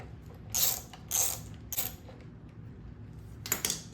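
A 10mm wrench loosens the two carburetor screws on a Briggs & Stratton 6.75hp engine of a John Deere JS63 mower, giving three quick close ratcheting bursts in a row, then a pause and a final pair of clicks.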